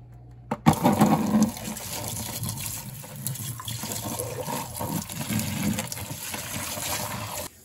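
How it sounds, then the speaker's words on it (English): Vinegar poured in a steady stream, splashing and gurgling over hard plastic Levoit LV600S humidifier parts nearby, starting with a burst and continuing for several seconds before stopping. "we'll pour the vinegar over it now"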